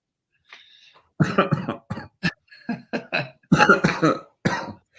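A burst of harsh coughing, several rapid coughs in clusters, close and loud, with a brief throat-clearing rasp at the start.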